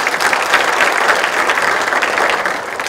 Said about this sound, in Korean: 백선희 부위원장님께 다시 한번 뜨거운 박수 부탁드립니다